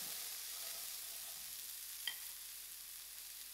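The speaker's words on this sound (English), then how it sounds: "Now my chana has fried a little." Chana fries in hot oil, making a continuous soft, even sizzle with one brief tap near the end, quiet and with no talking.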